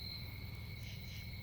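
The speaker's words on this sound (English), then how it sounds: "still got a few crickets and tree frogs singing" Crickets and tree frogs singing at night on a mountainside, a steady high-pitched chirring drone over a low murmur of background noise, faint and continuous with no voices.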